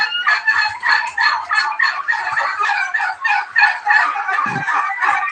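Turkeys and chickens call continuously at a poultry farm in Moulvibazar, Bangladesh, a dense overlapping chorus of gobbles and clucks with no talking.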